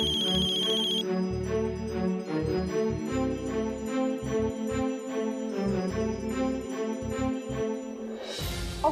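A telephone ringtone plays in a household scene from a Marathi TV serial, a loud, repeating electronic melody that keeps going unanswered for nearly nine seconds, with a brief bright chirp at the start and a rush of noise at the very end.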